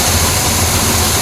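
A 1968 Chevrolet Malibu V8 with a Quadrajet carburetor runs rough and rowdy, a dense, continuous low rumble heard up close for a brief moment with no talk.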